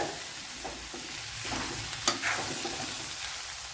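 Green beans stir-fried with dried red chilies crackle in a pan, a soft continuous sizzle broken by a few stirring scrapes, one sharper clatter near the middle, close and alone.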